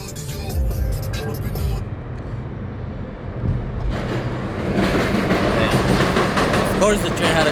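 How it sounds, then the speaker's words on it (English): A train rumbles past close by, heavy low roar with clattering wheels that grows louder and brighter toward the end. "Of course the train had to come right when I'm about"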